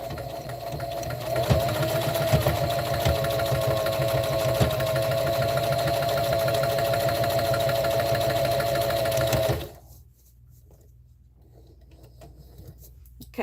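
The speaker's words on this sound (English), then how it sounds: "I'm going to go forward and I'm going to back stitch because that needs to be strong" A sewing machine runs steadily and loudly for about ten seconds, stitching forward and then back-stitching, before stopping abruptly and leaving near silence.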